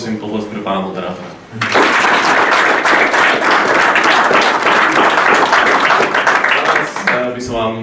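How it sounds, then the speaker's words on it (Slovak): Talk gives way to a loud, dense round of audience clapping for the moderator of a youth panel discussion in Bratislava, sustained for about five seconds before speech resumes over the fading applause. "A tiež vás poprosím potlesk pre pána moderátora."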